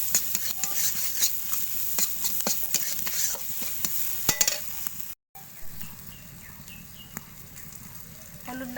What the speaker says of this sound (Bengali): দিয়ে দেবো হলুদ লবণ দিয়ে একটু কষিয়ে নিব।